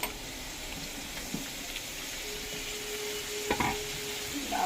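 Cumin seeds and cut cauliflower with potato sizzle steadily in a home kitchen pan, a continuous hiss with occasional scraping stirs and a couple of sharper clinks toward the end, no talking.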